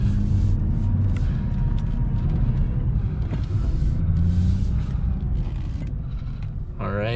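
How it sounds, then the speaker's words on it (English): A Nissan GT-R is driven slowly into a showroom out of the rain, its engine a low steady rumble close by, with a person speaking over it. "Let's pull this car inside right now, because it's raining."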